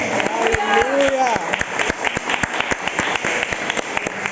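A church congregation claps during a celebration service, sharp rhythmic hand claps that are loud and close and run the whole way through, with a voice calling out over them.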